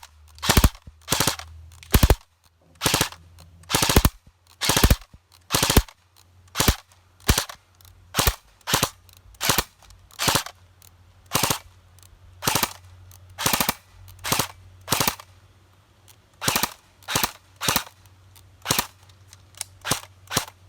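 Cyma AKS-74U airsoft gun firing BBs outdoors, loud sharp single shots repeating in a steady rhythm of roughly one to two per second, each a crisp snap over a low background hum.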